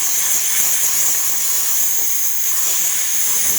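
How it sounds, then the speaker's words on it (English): Steam hisses steadily from the steam wand of a DeLonghi Magnifica coffee machine after a new generator and full service, a loud, even, high rush lasting the whole time with no break. "You see really good steam coming out of the one"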